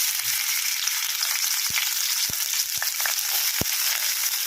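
Prawns frying in a hot pan for prawn patal bharta, giving a steady close sizzle broken by a few sharp pops and stirring clicks, with no voices.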